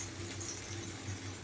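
Water sprinkled onto a very hot dosa pan on the stove gives a faint, steady hiss and sizzle that lasts about a second and a half, with no talking.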